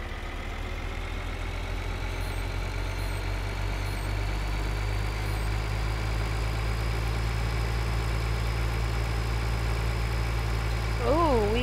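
A tractor engine in Farming Simulator idles with a steady low drone, holding constant throughout with a brief rising whine near the end, with no talking over it.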